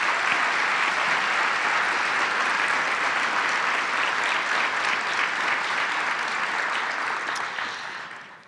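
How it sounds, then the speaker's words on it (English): Sustained audience applause for an award winner at a regional State of the Region event, a broad, even roar of many hands that holds steady and then cuts off. "Let's give her an in-person applause for last year's work."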